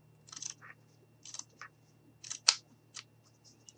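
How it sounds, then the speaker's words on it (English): Scissors snipping through a piece of sock fabric in several short, crisp cuts with small gaps between them, quiet and close, under a low steady hum. "So we have a piece of our sock here, and I'm just going to go ahead, cut this right up the middle,"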